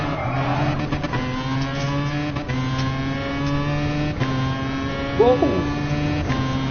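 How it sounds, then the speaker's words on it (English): The Bugatti Vision race car's engine in Gran Turismo Sport roars loudly and close, climbing through rapid gear shifts with brief tire squeal, while a voice talks over it. "This is a Bugatti Vision car."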